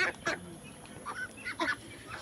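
Several short, scattered quacks and honks from a farm flock of ducks as they feed near water, moderately close, each call separate with brief pauses and no talk.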